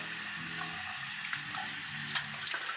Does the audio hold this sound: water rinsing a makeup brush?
yes